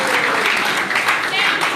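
A hotel event audience at a political talk breaks into loud, continuous applause, with dense clapping filling the room, close and steady from start to finish.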